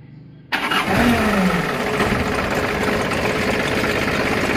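A truck's engine, which has a coolant leak and overheats, cranks and catches abruptly, then keeps running in a loud, steady, close rumble to the end.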